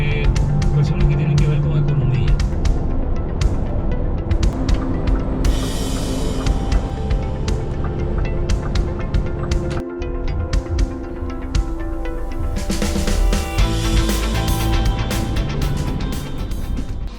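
Town street traffic on a busy weekday morning around school time, with cars moving and passing close by under a steady drone, with frequent clicks and bumps. People talk over much of it.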